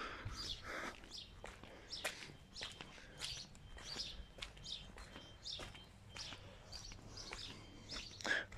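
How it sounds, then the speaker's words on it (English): Birds chirp and call repeatedly from trees around a rural Jersey lane near a farm with horses, clear but mid-distance, with faint footsteps from a walk beneath them. "Birds in the trees."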